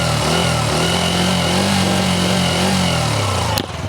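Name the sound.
Bajaj Freedom 125 CNG motorcycle engine running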